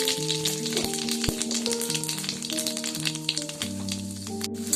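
Cumin seeds sizzle and crackle in hot oil at the start of a red goat meat curry, a steady close frying hiss with small pops and a few utensil clinks.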